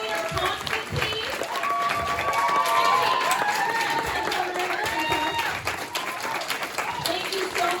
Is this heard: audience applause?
yes